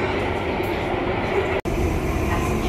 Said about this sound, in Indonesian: MRT ini merupakan kereta cepat yang menghubungkan wilayah-wilayah yang ada di negara Singapura ini